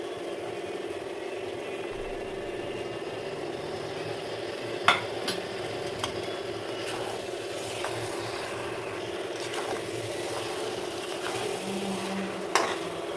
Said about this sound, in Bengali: টক দই দিয়ে একটু কষিয়ে দিই।